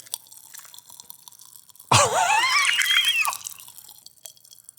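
Classic Pop Rocks candy fizzes and crackles inside a mouth, a sudden burst of sharp sizzling pops that lasts over a second before fading back to a quiet room.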